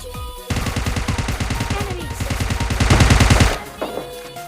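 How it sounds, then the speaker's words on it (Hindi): Rapid bursts of automatic gunfire rattle through a gunfight in the mobile game PUBG Mobile Lite, shots coming in dense, continuous volleys that build louder before cutting off abruptly. "आगे कुछ गन फाइट के साउंड आते हैं"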